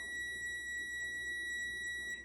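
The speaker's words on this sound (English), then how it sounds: "that's the timer for my banana bread" A kitchen timer going off for a big loaf of banana bread, heard as a faint, steady high electronic tone sustained throughout with no other sound over it.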